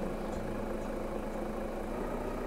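The diesel engine of a Renault Range T truck in Euro Truck Simulator 2 runs at a steady, moderately quiet idle, a continuous low hum and vibration with no other sounds over it.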